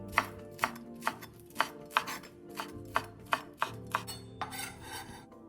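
Knife chopping green onions on a cutting board, a run of about a dozen crisp, evenly spaced taps, close and clear with nothing else heard.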